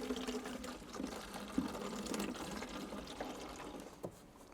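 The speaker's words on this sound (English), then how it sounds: "We can drain the coolant in a civilized manner." Coolant drains through a hose from a high-mileage Maserati Quattroporte GTS Ferrari-built V8, a faint, steady trickle and gurgle of liquid with occasional soft clicks.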